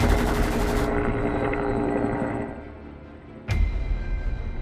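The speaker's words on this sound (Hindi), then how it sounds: "लेकिन हेलीकॉप्टर से इतनी फायरिंग हो रही थी कि डिटेक्टिव कुछ नहीं कर पा रहे थे।" Helicopter sound effect with gunfire, a loud dense rotor roar that fades, then a sharp burst returns near the end.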